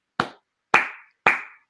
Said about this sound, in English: That's my slow clap.